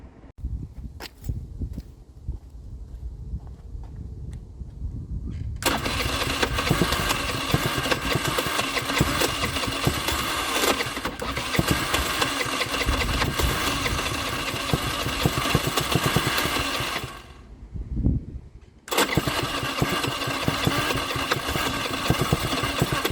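A Baotian Sprint scooter engine runs steadily after being started, loud and close with a rough mid-range drone, dipping briefly near the end before picking back up.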